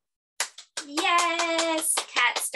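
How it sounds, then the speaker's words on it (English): Children clap their hands in a classroom phonics activity. The claps come in quick bursts, close and fairly loud, mixed with young voices chanting over them. "So get ready to clap."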